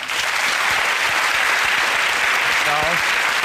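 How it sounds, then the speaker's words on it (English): Studio audience applause on a comedy music panel show, a dense, steady wash of clapping holding at full strength throughout, with a brief voice breaking through near the end. "please join me in a round of applause for our stars"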